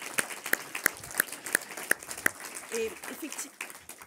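Small award ceremony audience giving a brief round of applause for a prize winner: a handful of sharp, separate claps in a loose rhythm, with a voice speaking briefly over the end.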